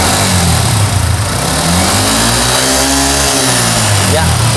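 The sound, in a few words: engine revving while testing an AFR meter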